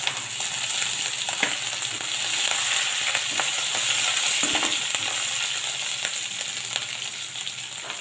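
Green chili and ginger hit hot oil with curry leaves in a tempering for besan and yogurt kadhi, giving a continuous loud sizzle and crackle with occasional stirring scrapes, no talking.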